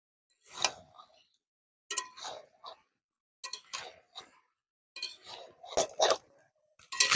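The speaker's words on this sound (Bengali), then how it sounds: "এঁচোড়টা দিয়ে আবার ভালো করে কষে নেব।" Chicken and boiled jackfruit being stir-fried in a pan, heard as separate bursts of spatula scraping and clinking against the metal with quiet pauses between them, close and fairly clear.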